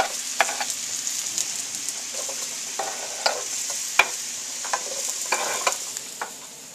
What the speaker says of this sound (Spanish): Que se derrita la margarina.